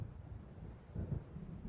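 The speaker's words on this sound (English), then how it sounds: "It seems there's a storm coming." Low distant rumble of thunder from an approaching storm in the video game Alan Wake, a soft rolling swell that builds briefly around the middle before settling into quiet ambience.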